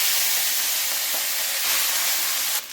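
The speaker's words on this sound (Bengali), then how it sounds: "এবার তেলটা ভালো করে গরম হয়ে গেলে চিংড়ি মাছগুলোকে ভেজে নেব।" Prawns fry in hot mustard oil with a loud, continuous hissing sizzle that stays steady throughout and drops off slightly at the end.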